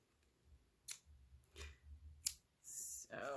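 Scissors snip off a tail of crochet yarn while a basket is being crocheted, giving a few quiet, sharp clicks spread over a few seconds, followed by a brief rustle of handled yarn.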